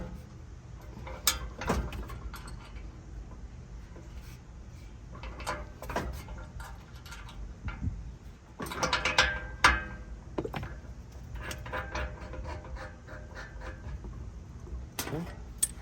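Wrench tightening the mounting bolts on a replacement condenser fan motor, a series of close metallic clicks and ratcheting knocks scattered throughout, with some scraping in the middle and talk in places.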